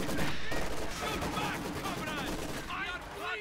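A Maxim machine gun in a World War II strategy game fires on grenadier squads, with bursts of gunfire and battle noise mixed under a commentator's voice.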